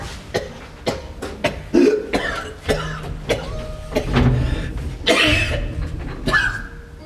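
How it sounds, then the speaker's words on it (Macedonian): A man coughs again and again, a string of sharp, hoarse bursts close by, some coming in quick pairs and others separated by short pauses, with a few longer rasping fits. "Многу кашлам."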